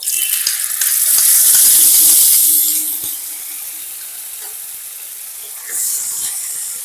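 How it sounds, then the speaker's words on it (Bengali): Tomato, onion, green chili and ginger paste hits hot tempering oil for a spicy pabda fish curry, giving a loud burst of sizzling that swells, eases into a steady fry, then flares again near the end; no one speaks. "ফোড়নটা আমার ভাজা হয়ে গেছে, এর মধ্যে মিক্সিতে যে টমেটো, পেঁয়াজ, কাঁচা লঙ্কা আর আদার যে পেস্টটা তৈরি করে রেখেছিলাম সেই পেস্টটাকেও দিয়ে দেব।"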